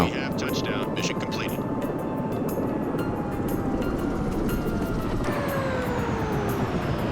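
In the Search and Rescue 4 flight simulator, an aircraft sits after landing following an engine failure. A continuous engine drone runs throughout, with gliding whining tones that slowly fall in pitch as the engine winds down.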